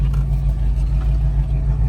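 A 1978 Pontiac Trans Am cruises along with a steady low engine drone and road rumble heard from inside the car, loud and constant with no voices.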